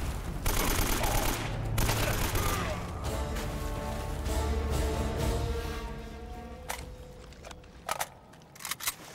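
AK rifle gunfire in the video game Uncharted: Drake's Fortune, heard as loud sustained automatic bursts that fade into a lighter rattle, followed by a few sharp isolated shots near the end.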